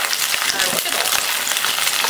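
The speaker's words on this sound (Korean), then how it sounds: "충분히 볶아주세요" Vegetables sizzle and fry in a hot wok while being stirred for Chinese lajogi, a steady close crackling hiss with faint clattering, no speech over it.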